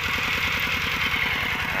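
Engine of a water pump drawing water into a dry-season rice paddy, a steady, close, continuous drone with a fast knocking pulse underneath and no talk.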